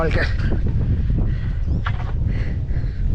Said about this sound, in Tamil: நம்ம மலைகளுக்கு இடையில அப்படி காற்று பூந்து அடிக்கிறது சூப்பராக இருக்குது